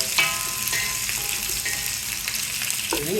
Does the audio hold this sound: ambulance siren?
no